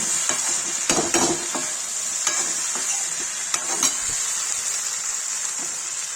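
Okra do pyaza being stirred with masala in a pan, a continuous sizzle broken by several scraping strokes and light spatula knocks against the metal, close and fairly loud.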